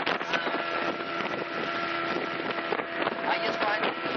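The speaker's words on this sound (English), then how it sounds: "Cruising in a 48 horsepower Yamaha outboard" A motorboat cruising on a 48 horsepower Yamaha outboard off Baja California, producing a steady engine drone with water rush and wind buffeting the microphone, continuous and close throughout.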